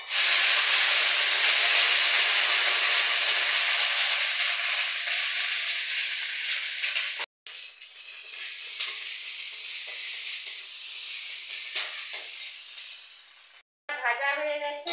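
Ginger paste, cinnamon and cloves fry in hot oil with a loud steady sizzle that fades partway through, broken by brief silences and stirring sounds.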